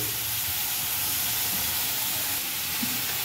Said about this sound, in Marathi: कांद्याला चांगल्या प्रकारे तुम्हाला फ्राय करून घ्यायचं आहे